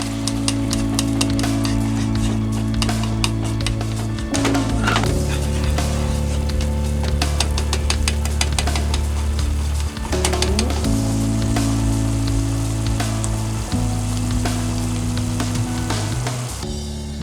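Rice sizzles and crackles steadily in a hot pan while being stirred until the liquid cooks off, with a low hum underneath and small bursts of scraping throughout.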